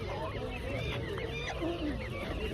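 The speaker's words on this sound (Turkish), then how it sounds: "Aha hindiler de gelmiş" Turkeys and other fowl at an outdoor chicken market give scattered honks and gobbling calls, fairly faint and mixed into a constant murmur of voices.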